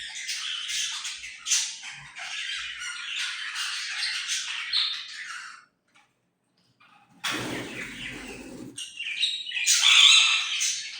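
Pet birds kept indoors squawk and chirp in dense, close bursts, falling silent for about a second midway before a harsher squawk and renewed chattering calls.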